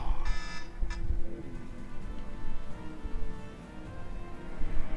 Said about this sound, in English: That was the alarm going off telling me that I've got to go out and mow the lawn here shortly.